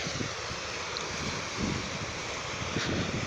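Sea waves wash against rocks at a private beach, a soft, continuous surf hiss with low rumbling swells and wind buffeting the microphone.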